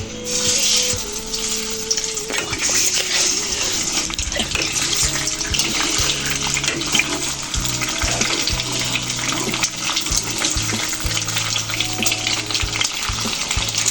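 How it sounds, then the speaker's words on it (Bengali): Egg frying in hot oil in a home kitchen: a steady, loud, crackling sizzle runs throughout with scattered pops and faint clinks, and no talking. "তেলটা তেতে গেলে তারপরে আমি ডিমটা ভেজে নেব ডিমটা ঢেলে নেবো"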